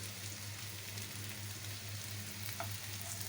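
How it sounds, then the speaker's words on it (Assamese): Taro (arbi) pieces fry in a pan, browning on both sides, giving a steady, even sizzle with a low hum running beneath it and no voices. "কচুগুটিখিনি ধুনীয়াকৈ 2টা ছাইড ব্ৰাউন হোৱালৈকে আমি ফ্ৰাই কৰি ল'লোঁ।"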